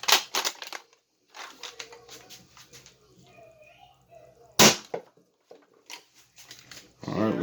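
Adventure Force Nexus Pro foam blaster with a compressed stock spring firing one shot: a single loud, sharp snap midway, with softer mechanical clicks and handling noise around it and a voice speaking briefly.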